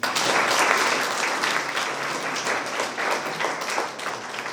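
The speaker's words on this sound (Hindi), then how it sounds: "हम धन्यवाद स्वरूप ताली बजा देंगे" A congregation at a Holy Mass in Bishrampur claps in thanks, a full steady round of applause from many hands that stays strong from start to finish.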